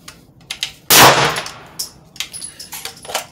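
A single loud RIA VR80 shotgun blast at an outdoor shooting range in San Leandro rings out sharply and decays over about a second, with fainter clicks and metallic handling noises around it.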